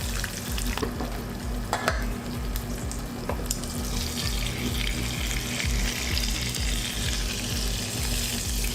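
An egg fries in a Lazada multicooker with a constant close sizzle and crackle of hot oil, while a few sharp scrapes and clicks of stirring break through the sizzling.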